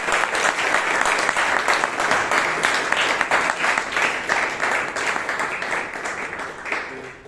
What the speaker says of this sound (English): I think Chiranth deserves a huge round of applause.